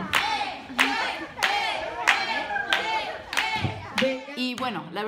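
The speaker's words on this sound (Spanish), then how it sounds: "Palmas, palmas." Guests at a bridal shower clap in a steady rhythm, about one beat per second, while voices call out and chatter loudly over the claps.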